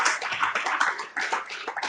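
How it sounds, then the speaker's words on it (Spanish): Congregation at a church service in Medellín applauding, a dense, steady wash of many hands clapping together at close range, continuous for the whole stretch with slight swells. "¿Cuántos dan un aplauso a Dios por la gracia?"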